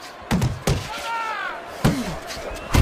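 Punches thud in a video game boxing simulation between Clubber Lang and Apollo Creed, several sharp impacts spaced through a steady crowd and commentary bed with a commentator talking.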